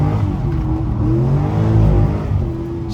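A Corvette C6 Z06 engine pulling hard under acceleration, a loud close-up roar with rising engine tone that dips briefly at a gear change and climbs again, no voices over it.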